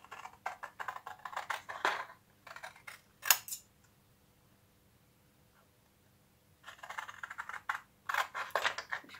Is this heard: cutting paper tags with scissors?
yes